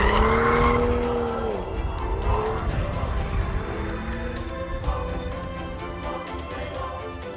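A BMW M235i drifts with its tires squealing in loud, sustained, wavering shrieks over a steady engine roar, close by and with no talk.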